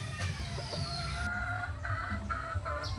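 A young broodstag rooster, a Golden Boy gamefowl, gives soft repeated clucks and short calls close by on a farm, with low rumbling background noise and no talking.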